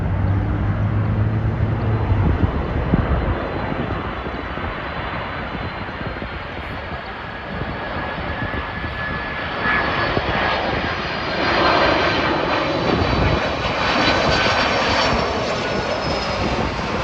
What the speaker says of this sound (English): next up is a Delta 767 from Atlanta